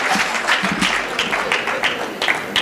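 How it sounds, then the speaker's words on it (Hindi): A crowd at a Hindi comic poetry gathering clapping to welcome the poet, dense and steady applause with brief surges, close and lively. "अरे तालियां बजाकर स्वागत करें शंभू शेखर का।"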